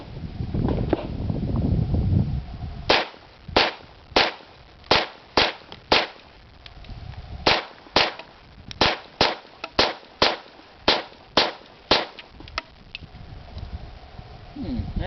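About seventeen sharp, loud shots from an HK P30L pistol with a rail-mounted compensator, firing Federal ammunition from a standard 15-round magazine. They crack out close by in quick, slightly uneven succession with short pauses between strings.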